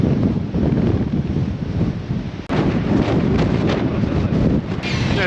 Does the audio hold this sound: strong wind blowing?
yes